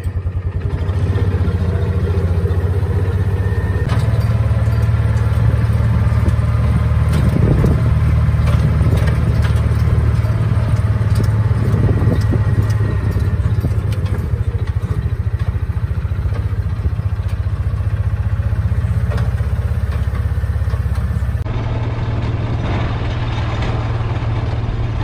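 A Kawasaki Mule SX utility vehicle's engine idles nearby, a constant low chugging rumble with light mechanical clatter that stays steady for the whole stretch.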